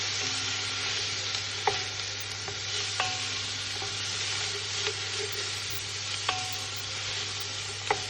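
Carrots sizzle and fry steadily in a hot pan, a constant crackling hiss with occasional sharper pops and light scrapes from stirring, close and fairly quiet with no talking.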